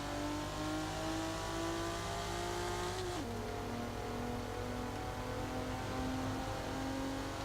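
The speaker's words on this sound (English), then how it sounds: "This car's really boosty at the high RPM" Mitsubishi car engine in Forza Horizon 4 revving hard at high RPM, a loud continuous boosty roar with a brief dip around the three-second mark, likely an upshift, before it climbs again.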